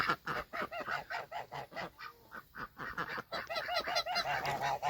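Geese honking repeatedly at close range, a busy overlapping chorus of nasal calls with brief pauses, continuing throughout.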